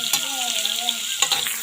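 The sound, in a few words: onions sizzling and crackling in hot oil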